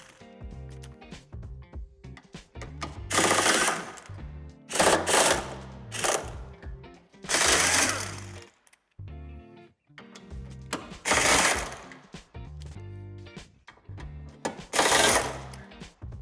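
A power tool spins out screws from the bumper bar of a 2016 Peugeot Expert III during tow-hitch fitting, in about six loud, rattling bursts of a second or two each, separated by short pauses.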